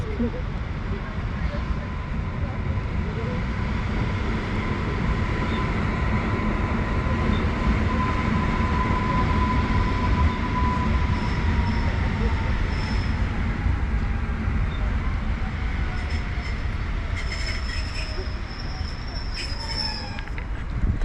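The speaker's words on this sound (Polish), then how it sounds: "wjeżdża pociąg przy peronie piątym" A Koleje Mazowieckie train rolls steadily into platform five at Warszawa Wschodnia station, a loud continuous rumble of wheels and carriages with faint metallic squeals rising near the end.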